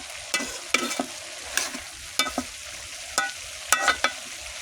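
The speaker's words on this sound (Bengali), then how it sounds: "ভালো করে একটু পর পর নেড়ে দিতে হবে" Mixed vegetables frying in soybean oil hiss steadily up close while a spatula scrapes and knocks through them in quick clusters of strokes, roughly eight or nine in all, with no voices.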